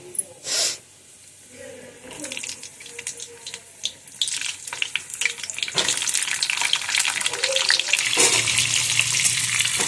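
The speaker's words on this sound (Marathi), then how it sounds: "नुसतं तेलामध्ये फ्राय करून घ्यायचं आहे" Cumin crackles and sizzles in hot oil, the hiss swelling louder and denser toward the end, close by.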